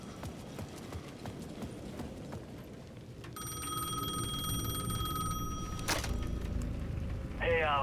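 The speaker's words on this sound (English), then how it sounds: "The payphone at the edge of the plaza was ringing again" A payphone rings in Alan Wake 2, a steady electronic bell tone with even harmonics that starts a few seconds in and keeps ringing over a dark, rumbling game ambience with scattered footsteps.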